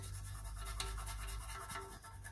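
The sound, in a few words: scrubbing dirty exhaust with toothbrush and toothpaste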